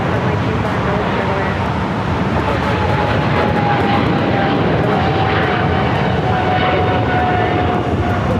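A large airliner takes off at Los Angeles International Airport, its jet engines giving a steady, loud, continuous roar that holds through the whole stretch and covers the background.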